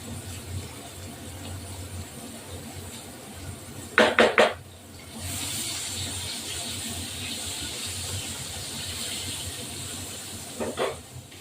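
Tilapia fish, rubbed with turmeric, salt, chilli and coriander powder, frying in oil in a pan: a steady broadband hiss of sizzling, broken by a couple of sharp clatters of utensils against the pan, with no talking.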